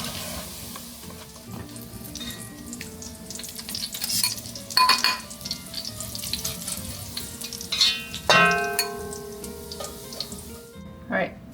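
Crispy bacon fries in a pan for zuppa toscana, a low continuous sizzle punctuated by clinks and scrapes of utensils against cookware as pieces are handled, faint and close throughout.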